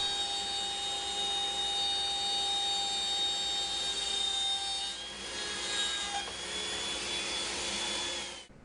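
A 1/4 inch router bit cutting all the way through wood, a steady high whirring grind that holds for several seconds, then dips and resumes slightly softer before cutting off, with no voices.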